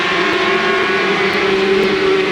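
A racing motorcycle from the 1984 Transatlantic Challenge, close and loud, its engine note holding a steady high drone with slight pitch shifts as the rider changes down through the gearbox.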